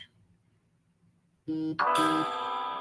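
A phone notification chimes suddenly after near silence, a bright multi-tone ringing that rises into a sustained shimmering ding and stays loud to the end.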